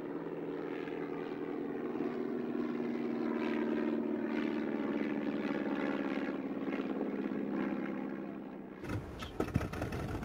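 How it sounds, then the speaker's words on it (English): A Fokker triplane, a 1917-era fighter, drones steadily with its propeller engine at a moderate distance for about nine seconds, the tone swelling slightly. The drone then cuts off abruptly into a different, clattering noise. "The result was the legendary Fokker triplane, which proved deadly against slower reconnaissance machines."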